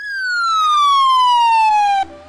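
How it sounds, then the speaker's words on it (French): An automatic roadside loudspeaker siren fires at a vehicle flagged for expired or incomplete documents, giving one loud, clean electronic tone that glides steadily downward for about two seconds and then cuts off abruptly. "vous allez entendre une sous-forme de sirène"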